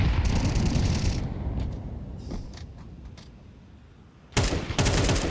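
Gunfire in a professional Counter-Strike match between B8 and GamerLegion at IEM Cologne Major 2026, including a headshot: a dense rattle of rapid shots, thinning out, then another loud burst near the end.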